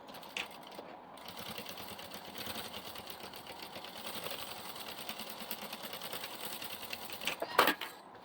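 A sewing machine runs a steady, fast stitching whir along a seam of a diaper bag, close and continuous, ending with a brief clatter.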